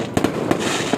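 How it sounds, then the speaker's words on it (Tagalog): Loud fireworks bursting in quick succession, sharp booms over a continuous crackling roar of distant explosions. "Fireworks ng SM."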